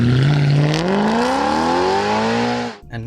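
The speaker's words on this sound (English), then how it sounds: "Under the hood sits something really special, a naturally aspirated 4-liter V8." BMW M3 with a naturally aspirated 4-liter V8 revving hard, a loud rising engine howl climbing steadily in pitch through the rev range, then cutting off abruptly near the end.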